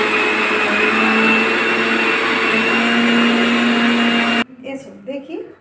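A mixer grinder whirs loud and steady close by as it grinds batter, then cuts off abruptly near the end, leaving faint clatter and a voice speaking.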